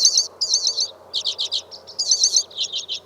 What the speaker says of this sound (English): a tiny pale finch with pink breast and red crown sings buzzy, jingling trills, a Hoary Redpoll.